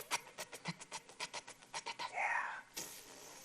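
A voice imitates a lawn sprinkler with a quick series of soft, breathy pulses, rhythmic and steady, then a longer hiss trailing off, close and quiet.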